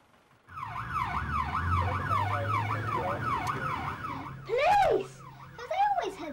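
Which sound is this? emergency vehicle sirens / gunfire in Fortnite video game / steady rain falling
emergency vehicle sirens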